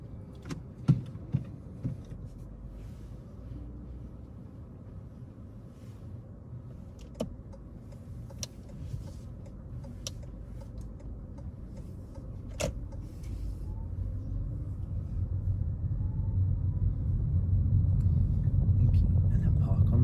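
A car pulls away during a mock driving test in Tottenham, its engine a low steady rumble from inside the cabin that slowly builds in loudness, with occasional clicks and knocks.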